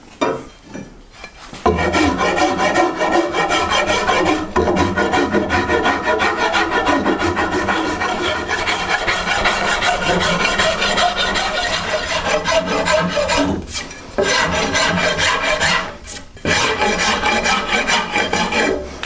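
A rasp working the edges of a wooden bow grip to round them, producing long continuous scraping strokes, loud and close, with a few brief pauses between passes.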